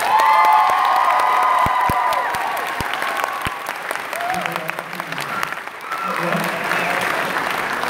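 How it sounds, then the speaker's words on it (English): A large audience at a Tokyo in Tulsa event in Oklahoma bursts into applause with whoops and cheers, loud at first and then settling into scattered clapping mixed with voices and shouts. "Let's give them a huge round of applause."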